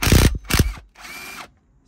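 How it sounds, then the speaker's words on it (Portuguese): Small impact wrench loosening a stainless Allen bolt on a Fiat Tipo: two short rattling hammering bursts followed by a longer whirring spin, close up, then stops. "Então, eu tenho aqui uma chavinha de impacto."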